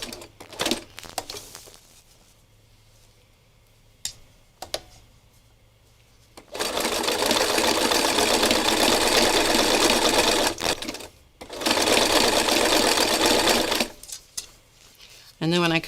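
A sewing machine stitches over thread at a corner of fabric, with sparse handling noises at first, then two long loud runs of stitching and a brief pause between them.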